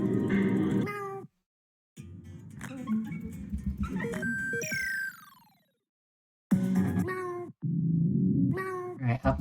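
A cartoonish cat meows in the video game PUSS!, with several short, bright meows separated by silent gaps, plus a descending chirp-tone effect in the middle, loud and clear with no talking.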